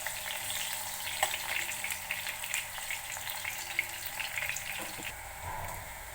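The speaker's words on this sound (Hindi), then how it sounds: "अब हम इनको ब्राउन होने तक फ्राई करेंगे।" Sliced eggplant sizzles in hot oil in a pan, a continuous crackling fry with a faint steady hum beneath and a brief clunk near the end.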